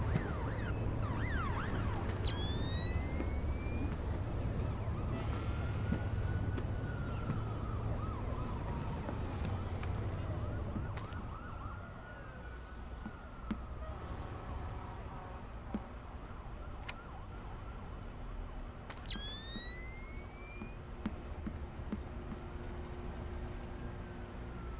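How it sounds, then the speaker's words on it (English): An alarm system in the video game Splinter Cell Chaos Theory wails with a rising and falling siren tone, moderately loud over a low ambient rumble, fading somewhat partway through, with sharp chirping electronic sweeps breaking in twice. "looks like Zerkezi has his own alarm system"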